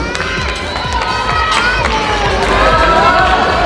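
A bodybuilding contest crowd cheers loudly while the six semifinalists pose, with shouts, whoops and clapping in a dense, echoing hall, plus an announcer's voice mixed into the roar.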